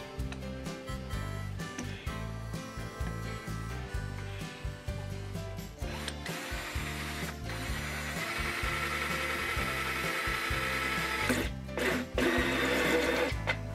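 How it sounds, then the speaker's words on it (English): Power drill boring holes through PVC pipe for a quail feeder, with bursts of whirring motor and grinding plastic rising and falling over several passes, close and steady. "All right, I've got my holes drilled,"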